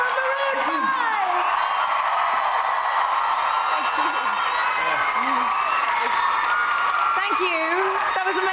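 A large studio crowd at The Voice UK applauds and cheers Maroon 5 in a continuous roar of clapping and whoops, with a presenter's voice heard over it.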